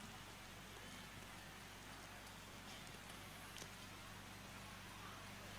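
Steady rain falls at night during an outdoor religious gathering in Banjarnegara, a dense broadband hiss running evenly throughout with a low constant hum beneath it and occasional faint voices.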